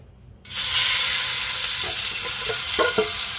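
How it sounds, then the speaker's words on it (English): About 250 grams of pork hits a little hot oil for stir frying, bursting into a loud sizzle after a brief quiet moment, then a steady hiss with a few light clicks of stirring. "let's just stir fry the pork with a little bit of oil"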